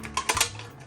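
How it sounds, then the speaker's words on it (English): Scissors cut into an aluminum can close up, giving a few quick, crisp snips and crunches of thin metal within a second. "I use a pair of scissors, and we're gonna cut this up"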